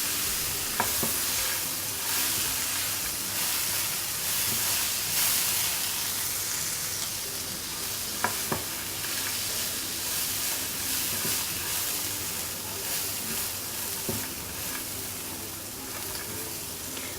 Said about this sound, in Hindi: अब पैन में 1 टेबल स्पून मक्खन डालेंगे और ये मिक्स ड्राई फ्रूट 1 कप ये डालेंगे। अब इसको रोस्ट कर लेंगे।